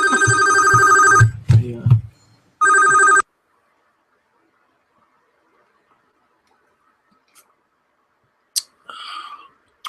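A telephone rings in two electronic bursts, the first about a second long and the second shorter, with a brief spoken word between them, then near silence except for a couple of faint clicks and a short noise at the end.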